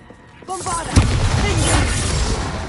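Bombarda spell explosion in the video game Hogwarts Legacy, a loud booming blast near the one-second mark followed by a sustained rumbling roar, up close.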